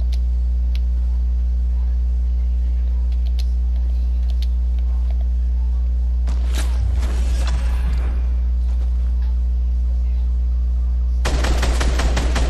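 Fortnite gunfire comes in two sharp, rapid bursts, a longer volley midway and another near the end, over a steady low electrical hum.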